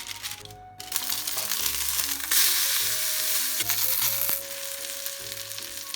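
Meat sizzles steadily in a non-stick frying pan, a loud close crackle and hiss with occasional stirring scrapes and pops while cooking a Japanese home-style side dish.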